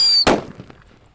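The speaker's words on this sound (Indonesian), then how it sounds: "kita mulai menyalakan mercon buntelan kertasnya" A single sharp, loud bang from a paper-wrapped firecracker, a jumbo homemade banger set off outdoors, cutting off a high whine and leaving a short fading crackle and echo.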